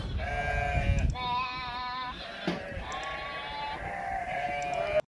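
Sheep in a grazing field bleat loudly and close by, several drawn-out wavering cries one after another, with faint background noise between them.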